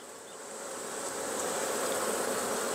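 Honey bees swarm and buzz steadily around an opened, honey-bound hive, a dense continuous drone that swells slightly and holds loud and close throughout.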